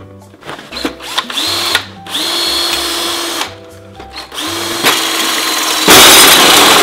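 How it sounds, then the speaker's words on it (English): A power drill whirs in short repeated bursts through HP printer plastic, rising in pitch as it bites, with a harsher, louder grinding burst at the end. "We're just gonna drill through."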